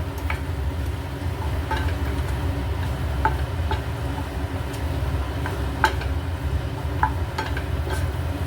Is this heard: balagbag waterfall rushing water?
no